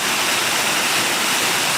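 A waterfall at night in the woods, with a small gate at its top for hydroelectric generation, pours in a loud, steady, unbroken rush of water with no voices.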